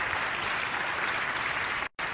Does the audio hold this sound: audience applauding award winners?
yes